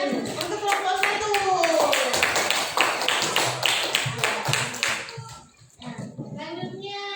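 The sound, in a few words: applause for group 1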